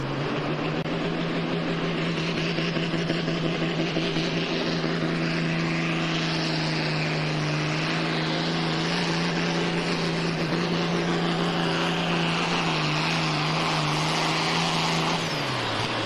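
Red Hot Fox pulling vehicle at a pro pulling competition, its engine roaring loud and sustained at high revs for the whole run, steady drone with slight pitch shifts before easing off at the end.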